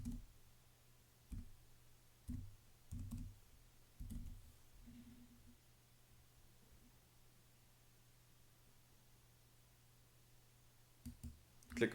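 Several sharp computer mouse clicks in sparse bursts, close and fairly faint, set against a quiet steady hum with long gaps between them.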